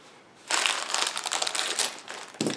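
Plastic packaging for a small Lego Star Wars podracer set is torn open and crumpled: close, loud crinkling in irregular bursts after a short quiet start, no voices.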